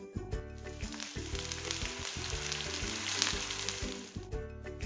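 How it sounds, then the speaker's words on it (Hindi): Onion, garlic and tomato puree sizzle in a pan with a continuous close hiss, while a low steady hum runs underneath throughout and no one speaks. "प्याज को हम सिर्फ 2 मिनट तक भूनेंगे और इसमें टमाटर की प्यूरी ऐड कर देंगे।"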